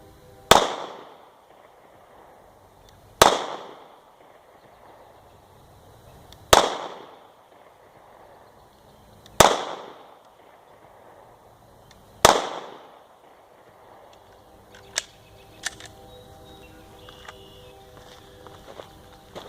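Five loud, sharp HK VP9SK subcompact pistol shots at an outdoor range from 10 yards, each a separate crack with a ringing decay, spaced about three seconds apart, followed by small clicks and handling noises.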